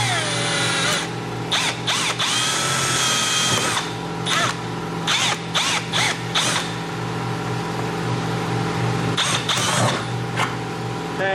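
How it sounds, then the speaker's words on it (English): A power drill with a 3/16 bit bores out rivets while a hidden hitch receiver is fitted to a 2017 BMW X5. The drill whines steadily and loudly, broken by short bursts and pauses. "You can use a 3/16 drill bit to drill out the center."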